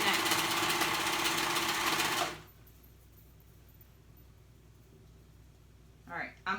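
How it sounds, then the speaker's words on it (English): A sewing machine runs steadily and loudly while stitching a jacket's shoulder seams, stops abruptly partway through, then leaves quiet room tone and a brief voice at the end. "I'm gonna go ahead and sew those shoulder seams together"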